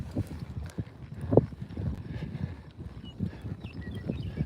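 Horse hooves clip-clop steadily along an outdoor trail in an uneven walking rhythm, close by, with faint wind in the background and no talking.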